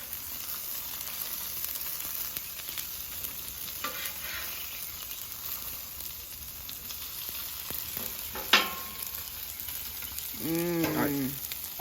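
Chicken pieces frying in oil on a flat top griddle, a constant close sizzle with occasional spatula scrapes and a sharp clack, while a voice talks briefly near the end.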